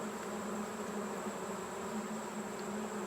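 Honey bees at an open hive frame of spotty brood and nectar, a steady close droning hum of many wings that continues unbroken throughout, with no voices.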